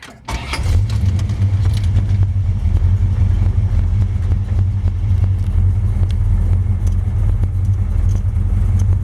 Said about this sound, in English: We're gonna fire the car up so you can hear it.